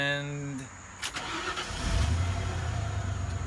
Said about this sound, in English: We are ready to start the truck.